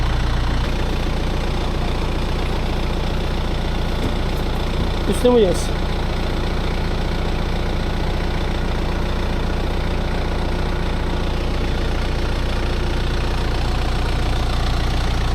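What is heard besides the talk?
tractor engine running on a fig orchard slope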